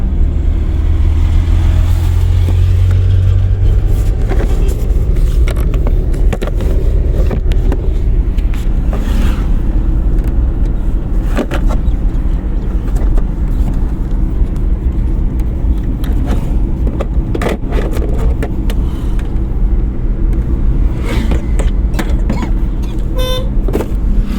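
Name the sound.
car driving on road during driving lesson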